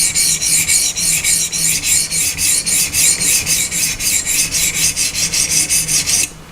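A Spyderco Manix 2 knife with a Maxamet steel blade is drawn across a sharpening stone at a 17.5-degree bevel, giving loud, close, rhythmic rasping strokes in a steady back-and-forth pattern that stops abruptly near the end.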